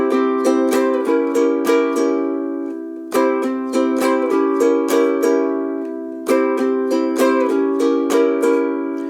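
A ukulele strums the opening bar of a song, with crisp, bright down-up strokes repeating in a bouncy pattern, close and loud with no voices.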